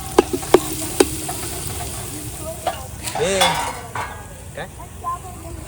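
Chicken fries in oil in a pot cooking outdoors in a forest, a constant sizzle broken by sharp metallic clinks of a spoon against the pot, with faint voices and birdsong in the background.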